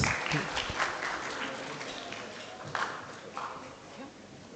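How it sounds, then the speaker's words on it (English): An audience at an international student colloquium applauds, a steady wash of many hands clapping at moderate distance that holds for several seconds, then gradually thins. "Please give round of applause."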